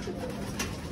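A captive bird, likely a pigeon or dove, gives a brief soft coo against a noisy background, faint and fairly close.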